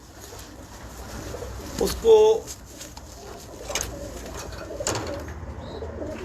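Breeding pigeon cooing on a rooftop loft, a brief soft coo rising out of background noise, with someone speaking nearby.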